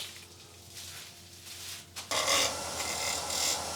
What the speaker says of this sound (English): Bevel rubbing on the wood.